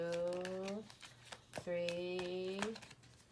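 A deck of playing cards being shuffled by hand: short crisp riffle bursts and taps come in quick succession while a person speaks over them.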